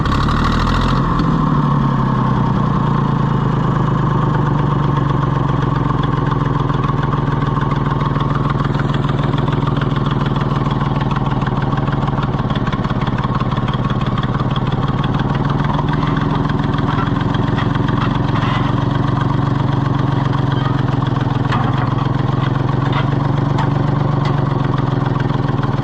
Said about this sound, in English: that's a pretty aggressive exhaust leak